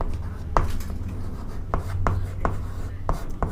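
Pen scratching steadily across paper while an answer is written out by hand during a class 10 maths lesson, with sharp tapping strokes at irregular intervals over a low steady background hum, close and moderately loud.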